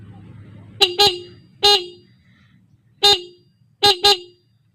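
A newly installed motorcycle horn honks in five short, loud bursts: a quick double beep, a single, another single, then a final double, over a faint low hum.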